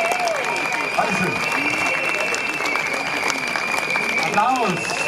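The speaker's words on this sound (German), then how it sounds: "Applaus." An outdoor crowd at a Monday demonstration against Stuttgart 21 claps in a dense, sustained round of applause, loud and even throughout, with voices and a steady whistle-like tone mixed into it.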